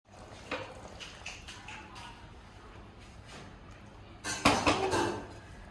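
A metal lid is set onto a cooking pot of simmering fish and tamarind stew, with a loud clattering clank near the end following soft stirring taps, while someone talks throughout.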